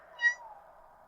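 A cat gives a single short, close meow that rises and fades over a faint steady background hum.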